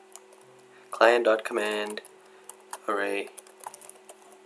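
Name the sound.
computer keyboard typing code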